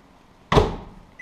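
A microwave oven door in a home kitchen shuts with a single sharp thunk after a quiet moment, the sound decaying quickly, then a faint click follows at the end.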